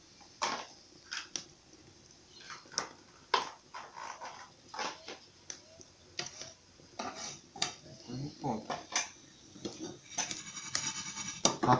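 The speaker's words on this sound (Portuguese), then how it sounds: "tá mexendo os ovos" Free-range eggs being stirred in a frying pan with margarine in a rural farm kitchen: a utensil scrapes and clinks irregularly against the pan, close and fairly loud, with a faint sizzle underneath.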